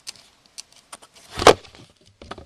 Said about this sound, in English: Whoops, camera fell over again.